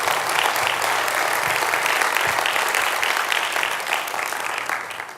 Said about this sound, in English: can you join me in giving them all an extremely warm round of applause?